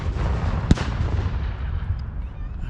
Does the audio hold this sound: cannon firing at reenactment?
yes